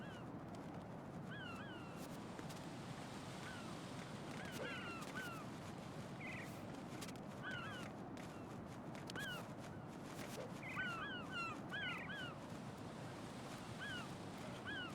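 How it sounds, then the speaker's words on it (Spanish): Seagulls give short, repeated cries over steady surf and wind in Metal Gear Solid 2. The calls are scattered and fairly faint against the rushing water. "la gaviota"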